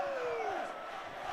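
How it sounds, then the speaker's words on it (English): St. Helens rugby league supporters cheer at the end of a playoff match against Warrington, a dense, steady roar of crowd voices filling the ground, with one rising whoop gliding down early on. "the St. Helens supporters standing to cheer their team to the rafters at the end"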